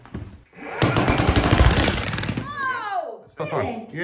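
Milwaukee MX Fuel breaker chiselling a concrete block: a loud burst of rapid hammering of about two seconds, then a short exclamation and more talking.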